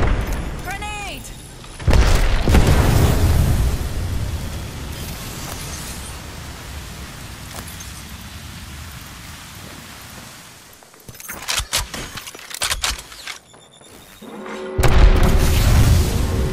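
A grenade blast in the shooter game Apex Legends, a loud broadband boom with a rumbling tail, followed by further bursts of gunfire-like impacts and a second heavy boom near the end, with a voice briefly heard.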